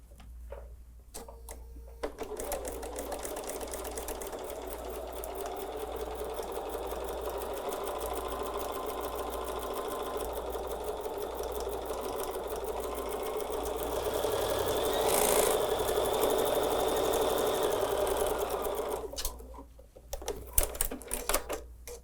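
A domestic sewing machine stitches a quarter-inch seam through quilting fabric, running steadily at a whirring, ticking pace for most of the stretch and speeding up slightly near the end, with clicks and handling noises at start and finish.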